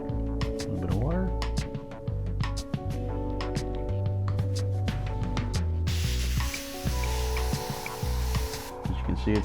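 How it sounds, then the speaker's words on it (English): An airbrush sprays water thinned with extender into a container, a steady airy hiss rising partway through and continuing to the end beneath ongoing tonal background sound. "As you can see, it's spraying fine."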